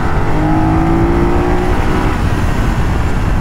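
A BMW F900R motorcycle engine revs loudly and close, with a sustained, strained roar and a rising then falling tone for a few seconds, with no talk.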